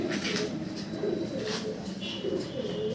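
Pigeons coo at a Bangladeshi pigeon market, soft repeated low coos layered over a steady crowded background murmur throughout.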